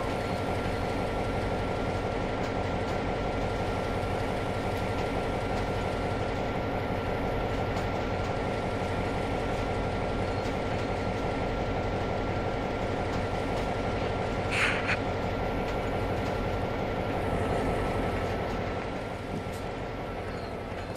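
A train runs on the Orbost route in the video game Trainz 2022, with a steady, continuous rumble of wheels and a faint rhythmic clatter. Partway through comes one brief higher squeal, and the sound eases slightly at the end.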